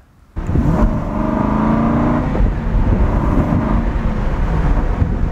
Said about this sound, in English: There's something really special about driving a V8 engine car with manual gearbox